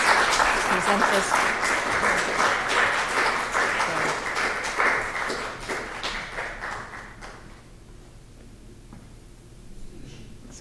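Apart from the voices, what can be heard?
audience applause for award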